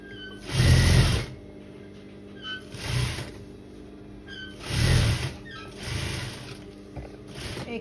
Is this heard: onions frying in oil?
no